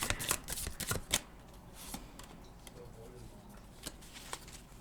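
Tarot cards being shuffled in short riffling bursts during a card reading, crisp papery flutters that cluster near the start and then recur sparsely and softer with quiet gaps between.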